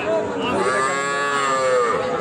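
A young bull calf at a cattle market moos one long, loud, drawn-out call close by, with no talk over it.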